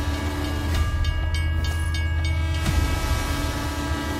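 India's first 12000 HP electric rail locomotive rumbles past steadily with a loud, continuous heavy rail roar, faint clicking of wheels over joints and a low sustained drone throughout.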